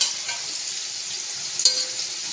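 Peas sizzle steadily in a wok of egg Schezwan rice over a high flame, a loud, continuous frying hiss with a brief sharp clink near the end.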